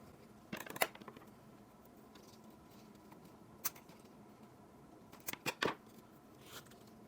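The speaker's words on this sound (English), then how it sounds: "My heart is hurting at this point, cutting those into so many small pieces." Scissors or pruners snip sweet potato slips into small sections, making quiet, crisp clicks. A few isolated cuts come early, then a quick cluster of snips follows later, all close and faint over soft background hiss.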